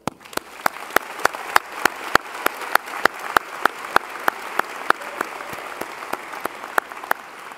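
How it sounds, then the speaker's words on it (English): Applause at a university graduate and PhD commencement ceremony, a sparse set of sharp, evenly spaced hand claps ringing out steadily in a large reverberant space. "A round of applause for them."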